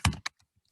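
A computer keyboard clatters in a quick burst of a few keystrokes while a URI transfer admission search is typed, close and alone, trailing off into faint taps.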